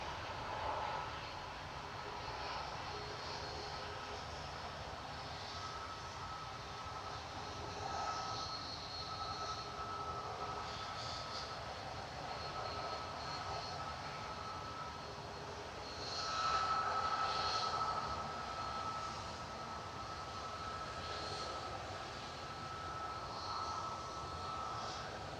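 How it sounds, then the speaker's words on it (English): An Airbus A321neo jet roars steadily at Manchester Airport, a sustained broadband engine rumble and whine that swells briefly louder midway, heard from a distance with no talking. "A321 Neo."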